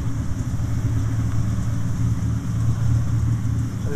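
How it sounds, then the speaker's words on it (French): A Ferrari 250 GTO pulled out of a workshop, its engine running with a steady, fairly close mid-pitched drone and slight rises in revs. "Là, ils sont carrément en train de sortir une 250 GTO de l'atelier."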